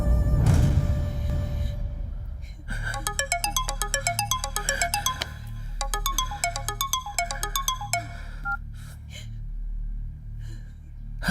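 A phone ringtone plays in a Bhojpuri film scene, a loud, repeating melodic tone pattern that cycles for several seconds after a gasp-like breath at the start.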